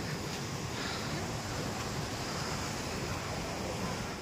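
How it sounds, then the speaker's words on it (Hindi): Jogini waterfall near Manali, water falling fast with a steady broadband roar that runs unbroken throughout, close and loud. "देखिए पानी कितनी स्पीड से गिर रहा है"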